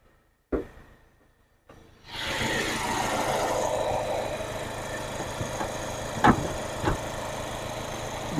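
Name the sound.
Kia Seltos 2020 diesel engine idling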